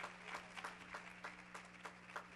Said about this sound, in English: Give these brothers a hand clap of praise.